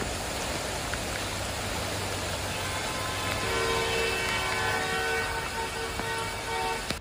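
Heavy rain in New York, falling as a steady, dense hiss, with a low hum and faint tonal traffic sounds mixed in.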